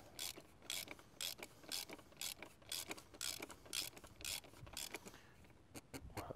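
Ratchet wrench clicking in quick bursts while tightening a part during an oil and filter change on a Seat Ibiza, close and fairly quiet, with short pauses between strokes and no talk.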